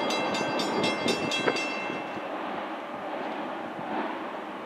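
A Norfolk Southern V18 freight train of mostly ethanol tank cars rolls past nearby with a steady rumble and repeated rhythmic wheel clicks on the rail joints, the clatter easing into a continuous roar.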